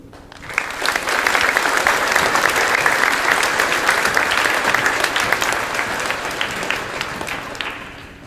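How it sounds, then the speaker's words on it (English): Applause for veterans at a school Veterans Day celebration, a sustained crowd clapping that swells quickly, holds steady and loud for several seconds, then slowly tapers. "Let's give all the veterans another round of applause."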